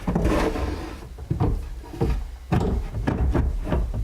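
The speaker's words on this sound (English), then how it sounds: "Let me put this shelf in here." A shelf is slid and knocked into place in a closet drawer unit, producing several hollow wooden thumps and bumps with scraping between them, close and fairly loud, with no voices.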